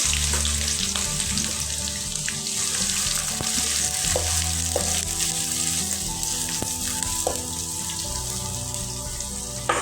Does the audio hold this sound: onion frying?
yes